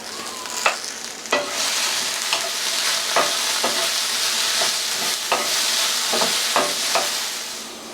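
Seasoned potatoes sizzle and fry in a pan on a stovetop, a steady close hiss broken by a dozen or so sharp clicks and scrapes of stirring spread across the clip.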